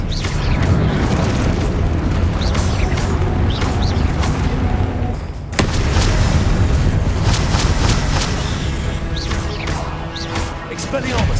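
Repeated explosive spell blasts from Confringo in Hogwarts Legacy, a dense, loud barrage of booms and crashing bursts with a brief lull midway, layered under continuous game combat noise.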